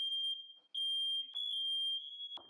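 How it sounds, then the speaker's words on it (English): A smoke detector shrills in a home kitchen during high-heat pan cooking, a piercing continuous tone broken by two short gaps, loud and close, with brief clatter underneath and no talking. "No joke, I constantly set off my fire alarm because I cook with very high heat."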